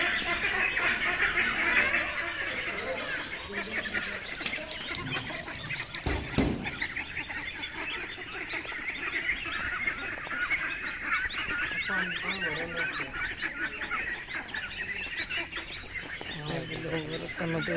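Ducks calling and honking around a rainwater pool on a farm, a busy mix of quacks at close range with other birds and some voices in the background.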